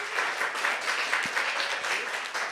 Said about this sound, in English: A little round of applause for Young Voices.